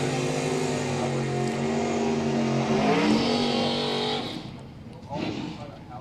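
Stock Eliminator drag racing cars roar down a racetrack, a loud engine drone that rises in pitch and then fades as the cars pass, under an announcer's voice.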